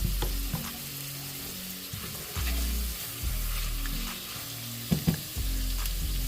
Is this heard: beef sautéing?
yes